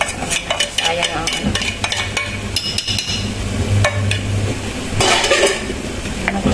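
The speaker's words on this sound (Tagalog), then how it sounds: "Haluin po natin yan." A spatula scrapes and clatters against a pot, stirring masala for a meat pulao in a dense, continuous stream of close scraping with a soft sizzle beneath and louder bursts near the end.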